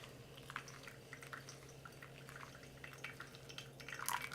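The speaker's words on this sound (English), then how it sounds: "now we're gonna pour until 250 grams" Hot water trickling and dripping over coffee grounds during pour-over brewing, a soft, faint liquid patter with light splashes that runs steadily and grows slightly louder near the end.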